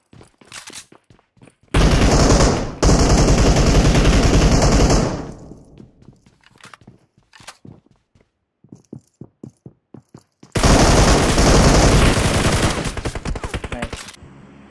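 Automatic gunfire in the PUBG Mobile video game: two long, loud sustained bursts of rapid shots separated by scattered single cracks and quieter clicks, with a brief fading tail at the end.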